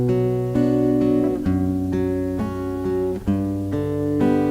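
Recorded guitar playing Pachelbel's Canon in D, a steady, sustained run of plucked chord changes, loud and close, with no voices.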